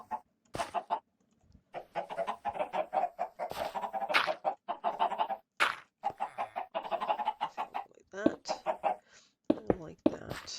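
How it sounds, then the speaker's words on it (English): Minecraft chickens cluck repeatedly in rapid, choppy bursts, loud and close, with a few short pauses between runs. "These guys are too noisy. I will put my lava chicken somewhere else."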